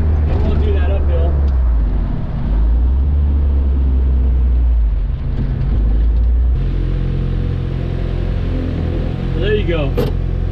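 A Suzuki Samurai diesel rolling downhill in fifth gear at about 45 mph under boost, with a loud, steady engine drone and cabin rumble throughout and a gear-and-road roar that rises partway. Someone talks over the noise.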